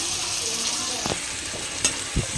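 Chicken pieces sizzle steadily in a pan with spices, giving a continuous close hiss, and a few brief scrapes and knocks of stirring come near the end.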